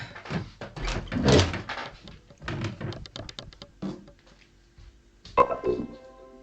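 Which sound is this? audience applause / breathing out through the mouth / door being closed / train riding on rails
door being closed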